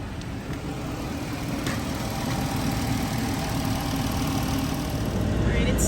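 A Ram ProMaster van engine idles steadily at close range during a coolant reservoir change, a constant low rumble with no change in pace throughout.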